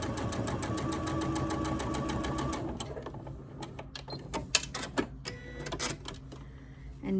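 A sewing machine stitches quilt pieces at a quarter-inch seam, a fast, even mechanical whir for a few seconds, then stops, leaving scattered fabric handling and clicks nearby.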